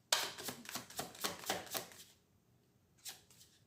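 Tarot cards are shuffled and handled for a psychic reading: a quick series of soft, close riffling slaps, then a pause and one more brief flick.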